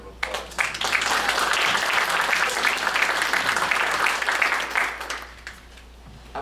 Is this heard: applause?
yes